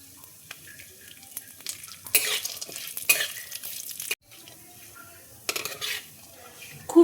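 Cashews fry in melted ghee in a wok alongside almonds, a soft sizzle broken by bursts of metal spoon scraping and clattering against the pan as they are stirred, close and without talk.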